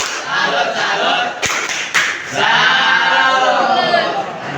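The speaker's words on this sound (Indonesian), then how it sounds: "Tepuk tangan buat kelompok 3." A junior high science class claps and chants together for a student group, loud and close, with a short break in the middle before the clapping and voices swell again.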